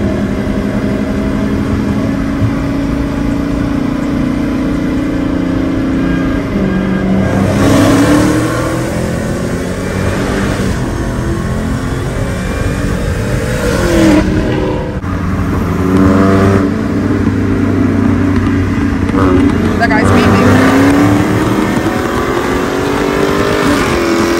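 A car engine revs hard and accelerates through a race run, a loud, continuous roar with several rising surges and gear-change dips.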